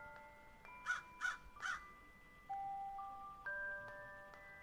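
A crow gives three quick, hoarse caws in a row, close and fairly clear, over soft sustained musical tones that continue after the calls.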